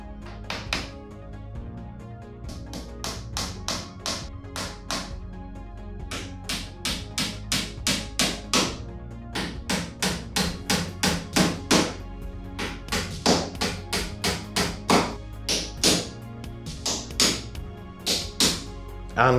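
Rapid series of sharp hammer blows driving nails into a wooden UK door frame, dozens of taps in quick bursts with brief pauses, close and crisp.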